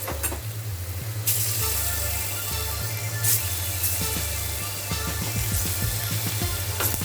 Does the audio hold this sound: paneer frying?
yes